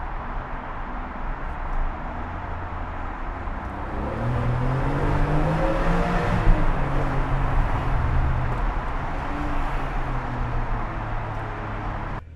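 Ferrari 550/575M Maranello accelerating inside a small tunnel, a steady, loud engine drone that swells and grows fuller partway through, then holds, with echoing road roar around it and no voices.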